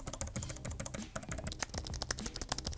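Brisk, uneven typing on an ergonomic computer keyboard with light keys, close-up clicks and clacks in quick irregular bursts with no talk.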